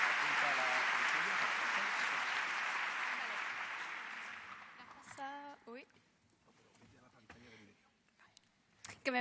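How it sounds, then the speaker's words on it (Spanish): Audience at a Naukas 2017 science talk applauding to welcome a speaker: loud, dense clapping that fades gradually over several seconds, after which a voice begins talking with brief pauses and small noises. "Un aplauso para ella"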